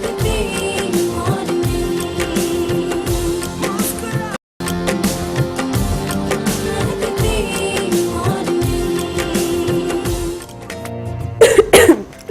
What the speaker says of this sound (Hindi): बड़े टाइम पे खांसी आई है मुझे।